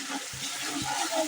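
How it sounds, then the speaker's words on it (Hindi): Masala fries in hot oil while a big spoon stirs it, giving a steady loud sizzle with a couple of soft low scrapes and knocks. "अब बड़े चम्मच से घुमाऊंगी मैं थोड़ा।"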